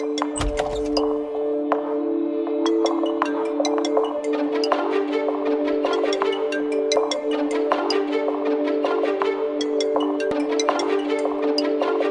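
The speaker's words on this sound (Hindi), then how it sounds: "वो किसी नुपुर का फोन है।" A phone rings with a steady electronic tone, sustained and fairly loud, with repeated bright chiming pulses layered over it.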